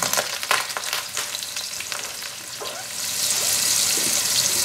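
Onions, garlic and hot pepper fry over medium heat for a Surinamese chicken gizzard sambal, giving a continuous sizzle with a few stirring scrapes, then the sizzle swells louder and hisses more brightly near the end.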